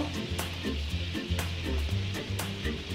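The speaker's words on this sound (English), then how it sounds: "we're going to add the garlic in now" Garlic sizzles as it is added to a hot pan while a seafood boil is being cooked, giving a continuous bright frying hiss with scattered sharp crackles and light stirring clicks, close and fairly loud.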